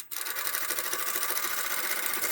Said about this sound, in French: Je vais coudre 5-10 cm